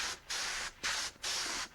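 An airbrush sprays paint for diorama groundwork in three short hissing bursts, each about half a second long with brief pauses between, close and fairly quiet.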